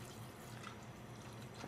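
Water pouring from a jug into a saucepan of pasta, a faint, steady, continuous splashing rush heard alone.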